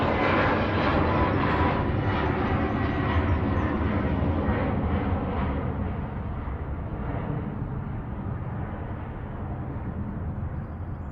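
A Ryanair jet bound for Bucharest departs Manchester Airport, its engines giving a loud, steady roar close by that slowly eases in strength as it climbs away.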